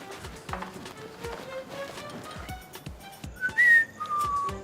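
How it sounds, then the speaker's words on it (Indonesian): A person whistling at night in a boarding-house setting, a few short whistled notes rising near the end, mixed with scattered footstep-like clicks and knocks in a quiet indoor space. "jangan siul malam-malam."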